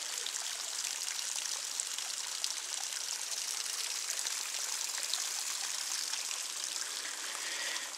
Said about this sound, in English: Up here is the waterfall behind me now.